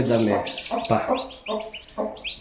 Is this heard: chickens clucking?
yes